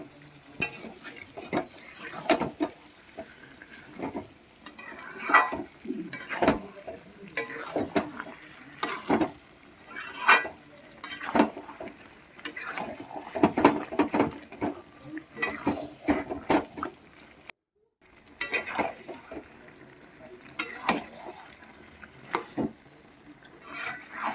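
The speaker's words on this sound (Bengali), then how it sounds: "এবারে ঘন ঘন খুব সুন্দর করে নেড়ে চেড়ে কষাতে হবে মানে কোনো রকম জল অ্যাড করবো না" Village-style mutton kosha being stirred in a pan with no water added, a spatula scraping and knocking against the metal in frequent close strokes over a low frying sizzle, with one brief pause.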